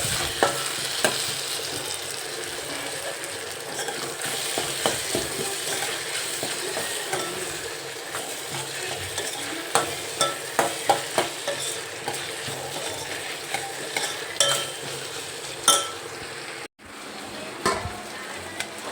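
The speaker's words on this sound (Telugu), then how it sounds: "అర స్పూన్ అయితే అల్లం వెల్లుల్లి పేస్ట్ వేసుకుంటున్నాను." Ginger garlic paste frying in a pan for Telugu fish curry, a steady close sizzle punctuated by repeated scraping and clicking from a stirring spoon that grows busier toward the end.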